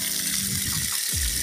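Water gushes steadily out of a drip irrigation filter in a mango plantation in Odisha, a continuous loud rushing flow with no voices.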